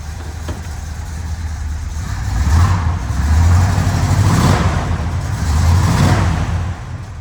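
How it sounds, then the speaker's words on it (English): A 1970 Oldsmobile Cutlass Supreme convertible with a 455 big block and dual exhaust revs loudly up from idle several times, the deep engine rising and falling close by. "give it a rev so you can hear it"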